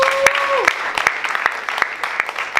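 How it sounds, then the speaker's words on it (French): Audience applause for a slam poet at a Mali festival, a dense crackle of clapping with sharp individual claps over a broadband wash, voices overlapping at the start. "On applaudit très très fort."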